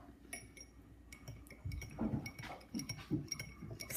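A metal utensil clinks repeatedly against a bowl while stirring honey with rosemary drops into a hair mixture, light irregular taps and scrapes, fairly close and soft, with no talking.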